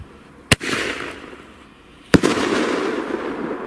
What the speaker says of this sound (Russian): Фестивальные шары больше всего нам понравились. Они очень мощно бахают